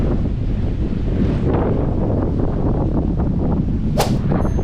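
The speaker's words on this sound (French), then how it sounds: "Me manger du vent dans la gueule là, c'est impressionnant." Strong wind buffets the microphone throughout while paddleboarding out to an island, a steady loud roar with a brief metallic clang near the end.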